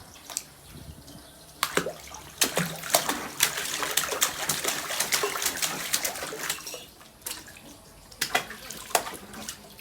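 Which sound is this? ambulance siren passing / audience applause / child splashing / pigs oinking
child splashing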